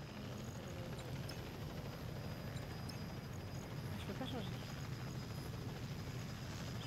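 Steady propeller-aircraft engine drone inside a video game, a dense, continuous low roar filling the whole stretch at even loudness.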